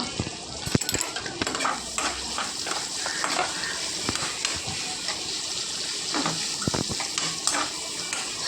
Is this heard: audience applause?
no